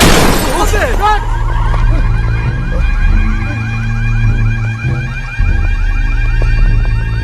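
A car being smashed in a Hindi film scene: a loud crashing impact with shattering at the start, then a car alarm wailing in a steady repeating warble, with people talking over it.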